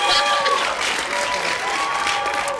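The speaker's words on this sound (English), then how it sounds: "Give them a round of applause." A studio audience on a TV dating show claps and cheers steadily for a couple of seconds, a dense wash of applause from a crowd indoors.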